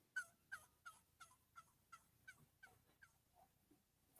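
An electronic turkey call plays a series of about ten evenly spaced yelps that gradually soften, followed by a couple of lower notes and a sharp bump at the end, with no talk over it.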